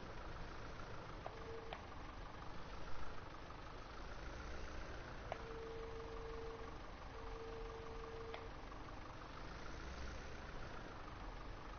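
A tractor engine idles steadily in Farming Simulator 17, a continuous low mechanical hum running evenly throughout with a few faint tonal beeps and clicks over it, no talking.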